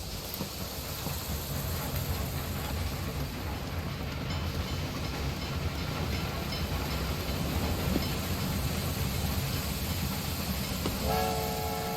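A train in Railway Empire 2 rolls along steadily as it changes tracks, a continuous rumble of wheels and carriages, with a short horn blast near the end.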